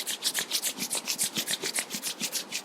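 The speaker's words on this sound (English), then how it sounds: "let's start rubbing our palms" Palms rubbed briskly together in a yoga session, a rhythmic, close, dry swishing of skin on skin repeated about eight times per second, with no other sound.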